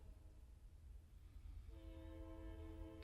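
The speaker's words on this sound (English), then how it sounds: "Sorry if you can hear that train." A passing train rumbles faintly in the distance, then a sustained multi-tone train horn sounds for the last second and a half.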